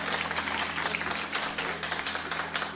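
Studio audience applauds in a dense, steady patter of many hands clapping, moderately loud, with a low hum underneath and no talking.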